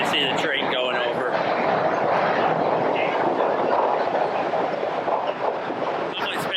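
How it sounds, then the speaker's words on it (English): An elevated L train rumbles past overhead at the Chicago Riverwalk, a loud sustained roar with rattling wheels, heard close and continuous while someone talks beneath it. "There you can see the train going over."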